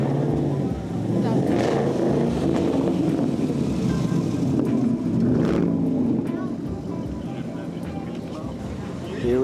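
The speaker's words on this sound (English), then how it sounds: "we have a Camaro that sounds quite nice as well" At a spring car meet, a Chevrolet Camaro V8 gives off a loud, continuous low rumble that swells and eases a little, with people talking over it throughout.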